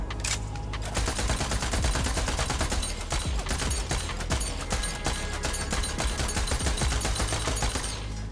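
An automatic pistol in Borderlands 3 fires in a dense, loud, rapid stream of shots, nearly continuous gunfire with sharp individual cracks blurring together across the whole stretch.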